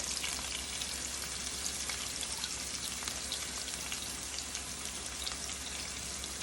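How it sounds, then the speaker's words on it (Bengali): Thickly cut onions fry in a pan with a faint, steady crackling sizzle like light rain, an even texture throughout, close but quiet, with no voices. "এই পেঁয়াজগুলো আমি ছেড়ে দিব এখন"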